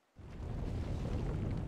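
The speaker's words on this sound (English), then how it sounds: "This is the explosion, and that thing over there, this is the explosion wave." A dense, sustained rumbling roar from an explosion and its blast wave in the Volcanoids video game, starting abruptly after a moment of quiet and staying loud and steady throughout, with no voices.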